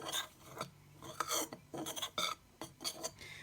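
A gluten-free dough of cassava and rice flour with salt and baking soda is stirred in a bowl, giving close, scraping, rasping strokes in an uneven rhythm.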